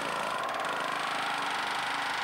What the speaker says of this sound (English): There's a riveting hammer.